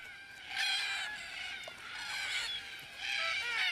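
Red-tailed black cockatoos arriving at a watering hole give harsh, grating calls in three bursts, fairly faint and outdoors, with quiet gaps between.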